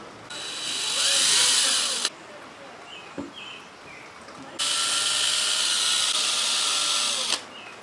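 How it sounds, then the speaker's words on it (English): A power drill whirs at high speed as a bit bores pin holes through wood in two long bursts, with a quiet pause and a small knock between them. "Just going to run a drill bit through here for the pins."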